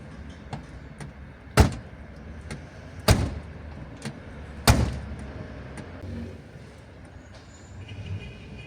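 A car trunk lid with a stiff, thick rubber seal hardened by winter cold gets shut, three sharp thuds spaced about one and a half seconds apart amid lighter knocks and a quiet background.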